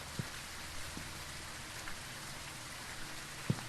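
Rain falls in the horror video game Phasmophobia as a steady, dense hiss with a few soft knocks poking through, evenly faint throughout with no voices over it.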